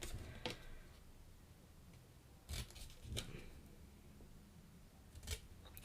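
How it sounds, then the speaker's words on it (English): Scissors cut into the valley folds of a paper gift box, giving a few short, crisp snips spaced apart against a quiet background. "Cut in the valley on 2 sides of the box."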